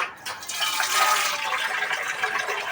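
Water poured into a cooking pot on the stove while making ilayappam, a brief steady splashing fill of liquid, close and fairly loud, with no talking.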